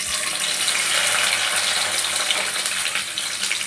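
Chopped onion frying in a little oil in a wok, the first vegetable going in for an egg-and-vegetable breakfast dish; a loud, steady, hissing sizzle runs unbroken throughout with no voices.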